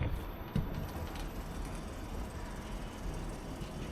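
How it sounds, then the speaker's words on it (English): A Siemens Taurus Class 1116 locomotive hauls a seven-car passenger train with a driving trailer at the rear, giving a steady broadband rolling rumble with a faint high whine, heard at a distance and alone. "Siemens Taurus Class 1116, hauling 7 cars, the last at the rear being a driving trailer"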